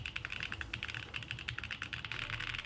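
Fast, continuous typing on a very expensive $20,000 mechanical keyboard, with light, crisp clacky keystrokes close up in a dense, even rhythm and no voices.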